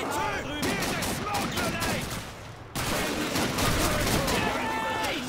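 Rapid gunfire in the World War II shooter Call of Duty 2: bursts of sharp shots and echoing battle noise fill the scene while someone talks over the shooting.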